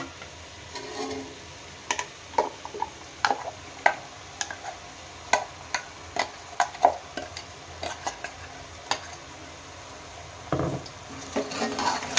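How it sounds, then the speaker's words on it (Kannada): Ground masala frying in a pan for a village-style country chicken curry, with a soft steady sizzle under scattered sharp spoon scrapes and clicks against the pan, fairly close and moderately loud. "ನಾನಿವಾಗ ರುಬ್ಬಿಟ್ಕೊಂಡಿರೋಂಥ ಮಸಾಲೆನ ಸೇರಿಸ್ಕೊತಾ ಇದ್ದೀನಿ"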